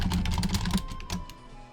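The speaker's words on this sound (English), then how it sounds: "Wow, my typing today." Fingers type rapidly on a computer keyboard, a close burst of clattering keystrokes that thins out toward the end, with no voices.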